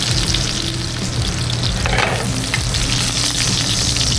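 Shallots, garlic, butter and rosemary sizzling loudly in a hot pan next to a sous vide steak being seared, a dense continuous crackle close up, with a brief stir partway through and no talking.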